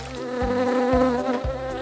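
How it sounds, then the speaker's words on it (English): A cartoon bee buzzes loudly and up close with a steady nasal drone that swoops in pitch three times in a regular rhythm, with no voices. "B is for bee."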